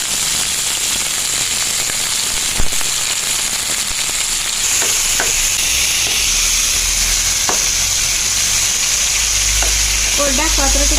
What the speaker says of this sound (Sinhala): මෙන්න පොඩ්ඩක් බැදිනකොට අපි සුද්ධ කරගත්ත තක්කාලි ටික